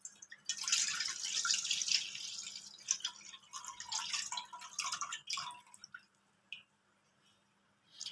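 Boiled cow's milk being strained in a kitchen, a wet splashing pour that trickles into uneven drips and tapers to quiet, brief drops near the end, no voice.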